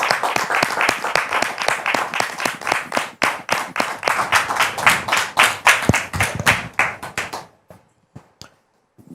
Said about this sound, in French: On peut la recevoir avec des applaudissements nourris.